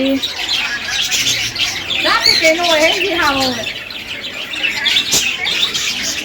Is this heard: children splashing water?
no